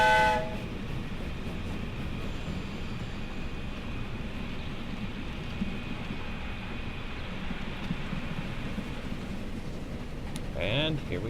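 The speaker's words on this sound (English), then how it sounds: "What a cute little locomotive." A small steam locomotive running in the video game Transport Fever, a continuous rumbling rail roar with a whistle tone at the start, steady and fairly loud, with a voice speaking over it.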